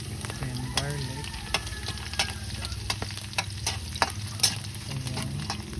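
Garlic sizzles steadily in a hot pan for pork liver adobo, a close, continuous fry with frequent small crackles and spits throughout.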